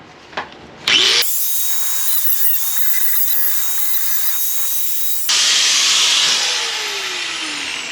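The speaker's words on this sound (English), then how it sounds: "I'm gonna cut that weld off right there." A high-pitched power tool cuts off a weld on a car footwell, screeching loudly in two sustained bursts with a brief change in pitch between them, close to the listener.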